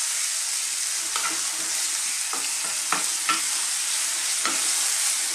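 Chopped fresh tomatoes sizzling in a pan for a fresh tomato sauce, a bright continuous hiss broken by several soft scrapes of stirring, close up with no voices.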